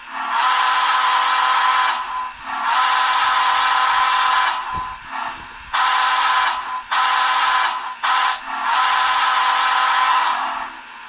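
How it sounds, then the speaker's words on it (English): Loud, steady whistle blasts in several long sustained bursts with short gaps between them, a model steam locomotive whistle sounding close and alone. "Here's the whistle. The whistle's actually right."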